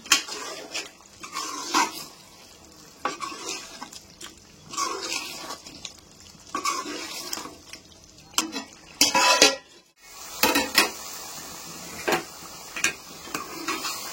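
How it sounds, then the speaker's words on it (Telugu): Ground masala being stirred into a pot of Telangana-style chicken curry, with repeated scraping and clinking strokes of a spoon against the pot over a soft simmer, coming in irregular bursts. "ఈ మసాలా వేసుకుందాం. వేసి మళ్ళీ ఒకసారి మంచి కలుపుదాం."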